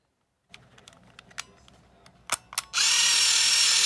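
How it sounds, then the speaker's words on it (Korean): A Chinon Auto GX fixed-focus film camera clicks through several small mechanical shutter and winding sounds, then a loud continuous whirring burst follows as the film advances, close and with no talking. "셔터를 한번 눌러보면 이 카운터가 어떻게 변하는지 보세요"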